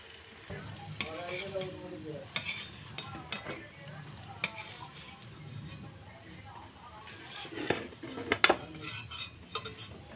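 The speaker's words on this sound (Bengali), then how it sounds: "আর এইরকম করে সবগুলো আমি ভেজে নেব।" Banana fritters frying in oil make a low sizzle, broken by clinking utensils and pan knocks, with someone talking quietly over the cooking.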